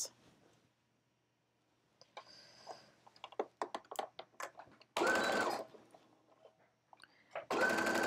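A sewing machine stitching bias binding onto a curved neckline of a 1920s flapper dress, two short loud whirring runs of stitching separated by clicks and handling noises.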